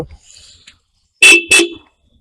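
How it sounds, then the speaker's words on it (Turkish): Two short, bright motorcycle horn beeps sound close by in quick succession, after a brief faint click and rustle. "E, kornamız. Korna bulunmakta"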